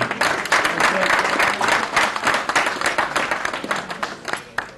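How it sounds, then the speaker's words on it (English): Audience applause for a guest introduced at an event with former heavyweight boxing champion Tim Witherspoon: dense, steady clapping from a crowd, fairly close and loud, with some voices mixed in. "Please give a round of applause to Mr. Jay Newman."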